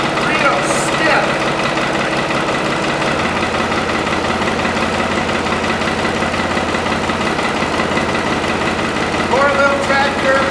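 A small tractor idles on a cold winter day, its hydraulic fluid stiff from the cold, making a steady low, knocking rumble close by while someone talks over it.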